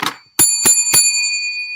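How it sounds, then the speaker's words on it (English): A bicycle-style bell rings three times in quick succession at close range, each bright ding ringing on and fading, after a brief bit of speech at the start. "Where my bell at?"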